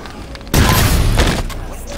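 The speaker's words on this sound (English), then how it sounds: "if you aim in with the Spartan scatter shot, it does the rocket burst" An aimed Spartan scatter shot fires a rocket burst in Halo, a sudden loud booming blast that starts partway through, holds with a rough crackling roar, then tails off.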